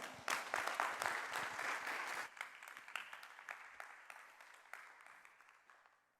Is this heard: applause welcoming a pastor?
yes